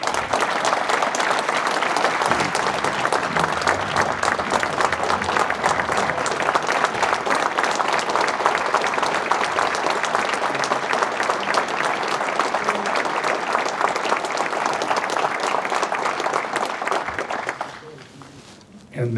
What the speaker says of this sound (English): And yeah, you can applaud right now